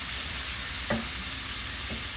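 Paneer mixture for beetroot tikki frying in a pan, a steady soft hiss with a couple of faint stirring knocks, no talking.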